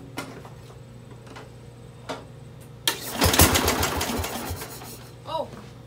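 A Bolens lawn tractor engine cranks and sputters into a rough, loud run for a couple of seconds after a few faint clicks and knocks, then drops away.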